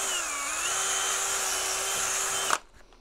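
A power drill bores out a hole in a part of an HPI 1/5 scale gas Baja 5B RC car, giving a steady, close, high-pitched whine for about two and a half seconds before cutting off abruptly.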